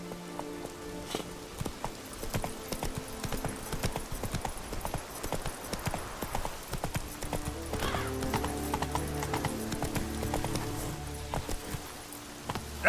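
Roach, the horse in The Witcher 3 video game, trots with a steady rhythmic clip-clop of hooves under continuous rain and a low musical score, close and moderately loud.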